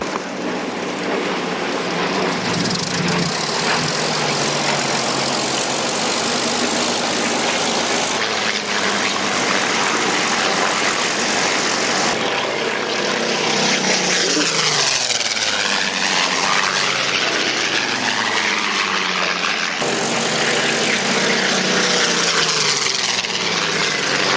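Yak propeller aircraft roar past overhead at the Duxford Flying Legends airshow, their engines loud and continuous, with pitch sweeping down as they pass and the growl rising and falling across the whole stretch.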